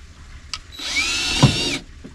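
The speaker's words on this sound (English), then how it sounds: "Now we're gonna drill, point of no return." A power drill bores a hole in a 2001 Honda CR-V interior to mount a Molle panel, a short whining spin lasting about a second, close and fairly loud.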